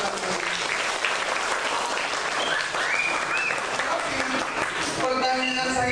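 Children applaud together at a Hindu youth religious gathering, a dense, loud wash of clapping that fills the room and continues steadily before fading near the end.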